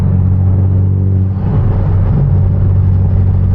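A Hyundai Genesis Coupe with a catch can and cold air intake drones steadily at a close, loud level, its low engine rumble even and unbroken while cruising, with no voices over it.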